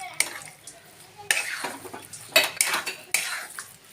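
A spoon scrapes and stirs grated fresh coconut cooking in milk in a pan, giving several sharp metallic scrapes and clinks in irregular strokes, close and clear.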